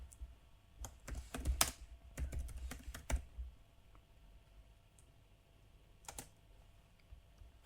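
Irregular clicks of typing on a computer keyboard while writing code, close and fairly quiet, with a cluster of quick keystrokes early and scattered taps later, no talking.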